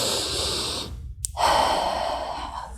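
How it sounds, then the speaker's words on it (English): A single deep, drawn-out inhale during a standing pelvic-floor breathing drill, close and clear, a steady airy rush that swells briefly after a short pause and holds to the end. "So big inhale."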